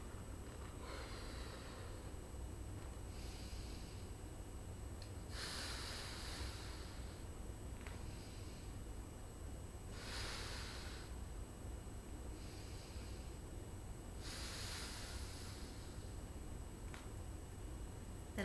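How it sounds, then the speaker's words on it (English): Slow, deep breaths drawn in through the nose and pushed out through the mouth into a balloon during an exercise for SI joint pain; several faint, evenly spaced breath cycles rise and fall against a quiet room. "I'm going to take 4 deep breaths, breathing in through my nose, out through my mouth"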